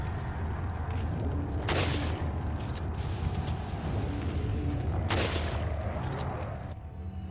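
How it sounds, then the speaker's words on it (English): Two gunshots in Resident Evil 4, each a sharp broadband crack spaced a few seconds apart over a steady loud rumble of game ambience. "I shoot it a few times"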